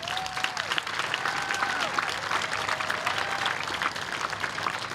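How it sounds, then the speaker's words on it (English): Warm crowd applause at a Relay for Life cancer fundraiser event, brisk continuous clapping from many people outdoors with a few faint whistles mixed in. "Please give them a round of applause for their dedication."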